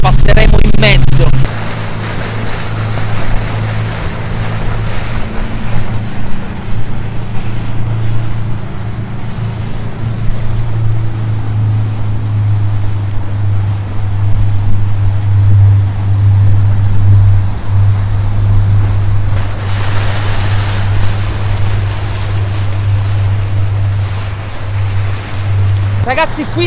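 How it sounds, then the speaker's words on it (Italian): A motorboat engine drones steadily at close range while passing between two rocks at sea, its low hum rising and falling slightly, with water sloshing and wind noise around it. "adesso passiamo con la barca fra questi due scogli"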